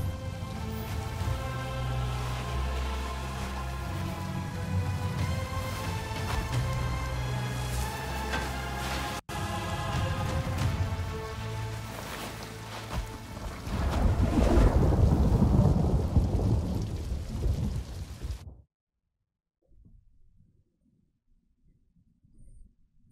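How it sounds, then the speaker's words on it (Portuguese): Heavy rain pours steadily onto beach sand during a storm in the video game No Rest for the Wicked. A deep roll of thunder swells over it before everything cuts to near silence with faint patter. "Vocês reparem que os pingos da chuva a baterem na areia, todos ali."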